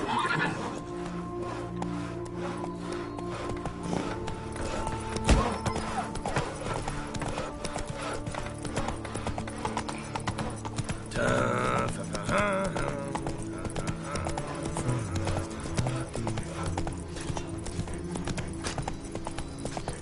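Steady clip-clop of a horse trotting in The Witcher 3, hooves beating in even rhythm for the whole stretch, with a whinny partway through and people talking over it.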